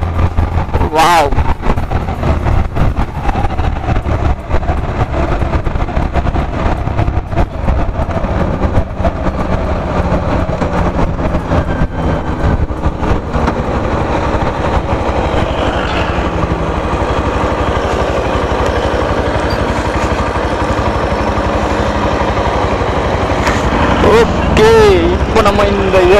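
The Yamaha FZ X motorcycle engine runs with a steady, loud drone close up, its pitch shifting slightly over the stretch, with a few brief revs toward the end.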